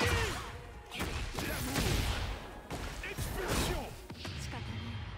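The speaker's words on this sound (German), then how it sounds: "Explosion ja. Hat lange Cooldown." An explosion attack in the fighting game Tekken 8 bursts out as a series of sharp blasts, whooshes and heavy impacts over game music and effects, with a voice talking over the action.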